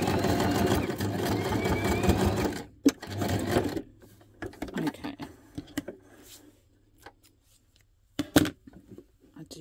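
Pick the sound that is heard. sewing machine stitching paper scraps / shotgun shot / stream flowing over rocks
sewing machine stitching paper scraps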